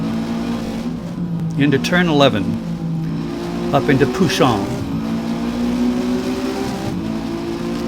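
A race car engine drones steadily through a track corner as the throttle is feathered, its pitch rising and falling in short sweeps under a driver talking over it.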